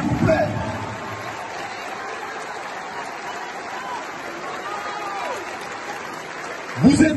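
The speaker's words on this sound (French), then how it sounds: "je vous demande de vous applaudir avec la plus grande puissance et que toutes les caméras du monde entier puissent vous entendre plus fort encore" A large crowd applauding, a steady wash of clapping from a distance that holds evenly, with a voice rising over it at the start and end.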